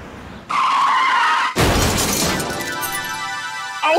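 A white car skids with a long, loud tyre screech, then a sudden crash and shattering impact as it runs into grandpa, followed by a ringing, fading clatter of debris.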